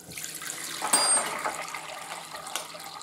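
Tap water runs into a bowl to soak it after bread dough was made, a short splashing stream with a few clinks, fairly faint and close.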